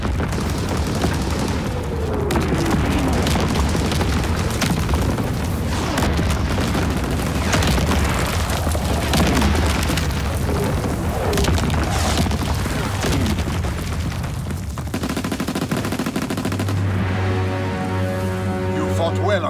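Artillery barrage in the World War II shooter Call of Duty WWII, with continuous rumbling booms and scattered gunfire filling the whole stretch, loud and dense throughout, while voices speak over the battle.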